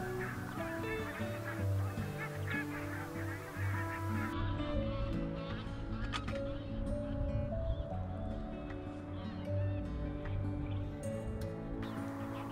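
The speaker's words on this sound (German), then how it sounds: "Auch ein paar Graugänse schwammen auf der Pütte." Greylag geese on a pond honk repeatedly at moderate distance, a loose overlapping chorus of calls over steady outdoor ambience with no talking.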